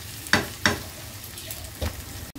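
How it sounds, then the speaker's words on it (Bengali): Ginger, garlic and onion frying in a pan, a soft sizzle broken by a few sharp stirring scrapes and clinks, close by with no talking. "তো চলো আদা রসুন পেঁয়াজ খুব ভালোভাবে একটু ভাজা হোক"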